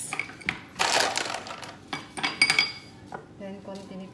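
Ice cubes clatter into a glass for a berry cocktail, a few close, bright clinks and rattles in short bursts, followed by lighter chinks as the cubes settle.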